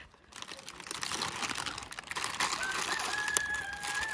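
A rooster crows at a Nepali Dashain (Dussehra) family celebration, its drawn-out call rising near the end over a constant hiss of crinkling and household noise.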